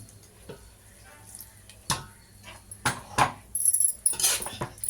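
Spoon stirring hot oil in a pan for prawn dum biryani, with faint sizzling and intermittent metallic clinks and scrapes that grow busier toward the end, close and alone.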